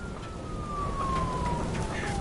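A police car siren in a video game wails as a single steady falling tone under a low rumble and background game noise.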